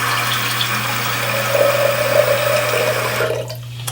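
Water pours steadily into a container to mix with Dawn dish soap for cleaning makeup brushes, a continuous close trickle over a low hum that cuts off near the end.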